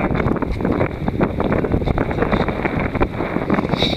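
Strong wind blows over a Rob Roy 23 under sail, a loud, gusting roar with buffeting against the microphone and a faint hiss of water along the hull, with no talk.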